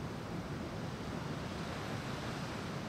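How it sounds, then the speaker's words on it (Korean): Ocean waves roll onto Jeongdongjin beach in Korea, a soft, steady wash of surf with a faint wind hiss and no voices. "밀려오는 파도가 정말 예쁘네요"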